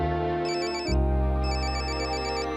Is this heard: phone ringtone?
yes